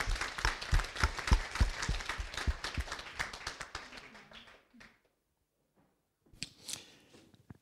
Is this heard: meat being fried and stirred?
no